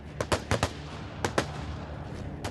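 A rapid burst of sharp gunshots, four quick cracks followed after a short pause by two more, loud and close with brief echoing decay and no voices.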